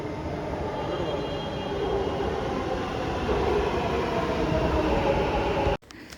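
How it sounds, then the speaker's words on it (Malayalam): A Bangalore metro train rumbles steadily from inside the carriage, a continuous loud rolling drone with faint voices beneath it, ending in a sudden cut. "പറഞ്ഞ പോലെ ഒലിവർ ആദ്യമായിട്ടാണ് കേട്ടോ മെട്രോയിൽ കയറാൻ പോകുന്നത്"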